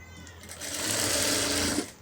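Sewing machine stitching along a folded blouse hem, a steady close whirring run that starts after a brief pause and stops near the end.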